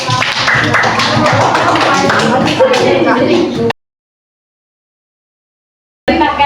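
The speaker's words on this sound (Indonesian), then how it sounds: "Tepuk tangan dulu untuk Mbak Dita." Classmates in a fifth-grade classroom clap for a student, a burst of loud, close clapping with children's voices, then a sudden silence before the noise resumes briefly.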